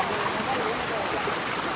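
Water rushing hard under pressure over the Barrage Dam at Badlapur, a dense, steady wash of noise filling the short moment, near and fairly loud.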